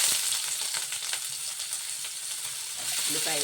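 Green chillies frying slowly in hot oil for Hyderabadi mirchi ka salan, a steady close sizzle with faint crackles and a brief scrape of stirring near the end.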